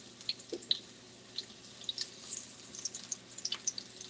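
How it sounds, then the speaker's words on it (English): Onions frying in hot oil for a gluten-free green bean casserole, a faint, soft crackle with scattered sharp pops and spits, quiet and steady with no talk. "I'm going to start putting some of the onions inside of my hot oil"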